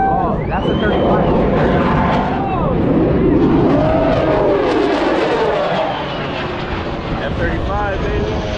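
An F-35 fighter jet flies at the Huntington Beach airshow, and its loud jet roar rises and falls with sweeping tonal whines as it makes a fast pass and turn. Excited voices talk over it.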